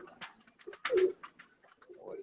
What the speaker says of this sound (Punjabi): ਇਹ ਇੱਕ ਹੋਰ ਕਾਲੇ ਮੂੰਹ ਵਾਲਾ ਗਾੜਾ ਕਬੂਤਰ ਆਇਆ ਜੀ